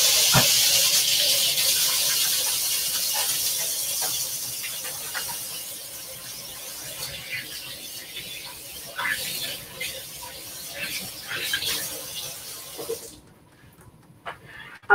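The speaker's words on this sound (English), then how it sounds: "Actually, I'm going to rinse it off real quick." A kitchen tap runs while a hand is rinsed under it, with a steady close hiss of flowing water that thins and breaks into splashes before cutting off near the end.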